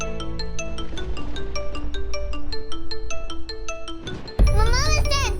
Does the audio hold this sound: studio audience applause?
no